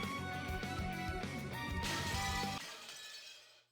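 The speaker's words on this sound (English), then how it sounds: "We haven't seen that glass shattering in a while either." Glass shatters as a sound effect in the visual novel Umineko When They Cry, a bright, crashing breakage over music that cuts off and then rings out and fades.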